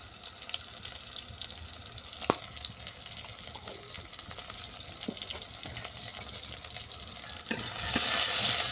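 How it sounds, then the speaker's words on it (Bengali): Eggplant frying in oil, a steady close crackling sizzle with scattered spatula taps, rising near the end into a louder rush that sounds like running water. "বেগুনটাকে ভালো করে ভেজে নিচ্ছি"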